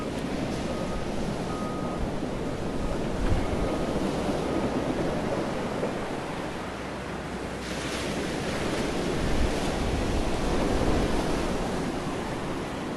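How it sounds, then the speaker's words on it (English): Ocean waves breaking on a shore, heard as a continuous broadband roar of surf swelling and receding over several seconds, with wind buffeting the microphone and no talking. "the way that the waves are showing up."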